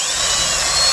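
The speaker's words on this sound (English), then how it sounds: "And then I take my drill and go ahead and drill one of the holes." Power drill boring a small starter hole through a plate, a steady high-pitched whine running continuously and close up with no talking.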